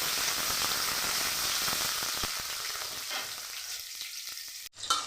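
Tomato frying in oil in a pan while being stirred, a dense close hiss of sizzling with scraping stirs, thinning out toward the end before a brief clatter.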